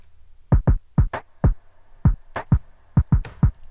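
An Omnisphere snare drum sample put through a filter, heard as a sparse, uneven rhythm of short, punchy hits, about a dozen, with near silence between them.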